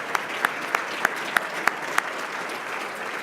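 An audience at an air-quality summit applauds the governor and elected officials, a steady wash of clapping with a few louder, evenly spaced claps standing out near the front.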